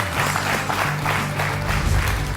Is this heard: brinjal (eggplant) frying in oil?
no